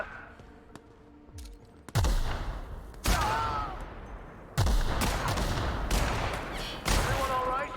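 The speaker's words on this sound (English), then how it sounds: "there's people shooting at us" Gunfire in The Outer Worlds video game: several loud bursts of shots and booming impacts arrive in clusters, with whizzing ricochet tones and faint voices underneath.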